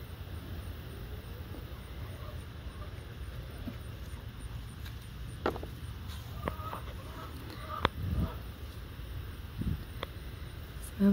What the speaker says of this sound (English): Chickens are brutal.